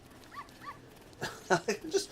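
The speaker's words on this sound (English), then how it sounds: "just wild dogs roam the streets of Hyrule Castle" A few sharp barks from a dog in Ocarina of Time, roaming the streets of Hyrule Castle, come in a quick burst of three or four yips after a soft whimper-like tone, over faint game ambience.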